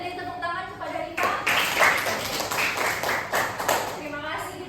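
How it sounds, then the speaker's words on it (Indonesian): Students in a second-grade math class break into a burst of applause that swells after a moment of talk and carries on steadily to the end, with voices mixed in underneath the clapping. "Boleh beri tepuk tangan"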